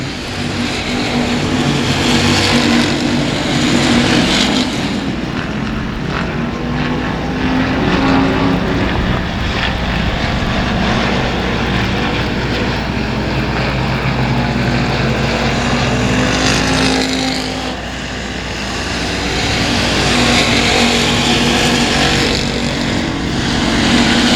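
Race cars roar continuously around 281 Speedway, a loud, dense engine drone that swells and fades as cars pass close by.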